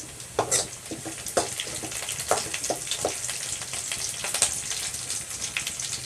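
Onion and curry leaves frying in a pan for a mushroom gravy, a close crackling sizzle punctuated by sharp pops and brief stirring scrapes, fairly steady with irregular bursts.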